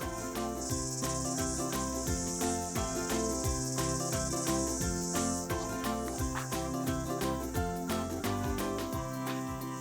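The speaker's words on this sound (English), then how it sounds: "Can you hear that? Those are cicadas." A high, buzzing drone of male cicadas singing rises and holds for several seconds before fading, over rhythmic background music.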